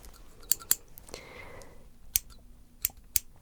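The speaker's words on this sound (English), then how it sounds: "Let me see my scissors here." Several sharp metallic snips of scissors cutting hair, spaced irregularly, close by with a soft rustle between them and no talking.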